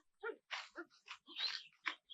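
Dogs make short, close snuffling and whimpering bursts with sniffs and snorts in an uneven rhythm, set against a quiet background.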